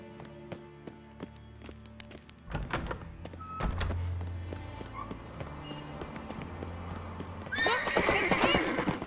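Horse in The Witcher 3 on Skellige whinnies and neighs as hooves clip-clop, with a loud burst of galloping and whinnying near the end, over game ambience and faint talk.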